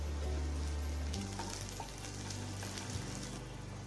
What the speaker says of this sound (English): Now saute till the onions turned golden and crisp